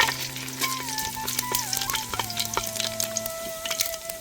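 Whole dry spices, cumin, star anise, pepper, cloves, red chillies, bay leaf, green and black cardamom, cinnamon and mace, frying in hot oil, a steady close sizzle with crackles and pops and no talk.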